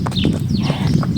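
A gentle, patient horse moving close by, with soft hoof clip-clops and a few low snorting breaths over a muffled, continuous background.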